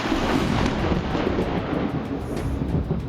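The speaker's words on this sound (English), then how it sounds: "It may not be as powerful as a ground strike, but a cloud-to-plane discharge is still quite fearsome." Thunder from a cloud-to-plane lightning discharge rolls as a loud, broad rumble that stays steady and dense for a few seconds, with no voices.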